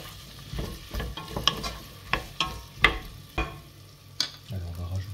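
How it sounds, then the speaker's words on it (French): Onions and potato cubes cooking in a pot for rice soup, stirred with a utensil in irregular scraping strokes over a soft sizzle, near and distinct, with no voices. "en remuant fréquemment pour pas que ça adhère"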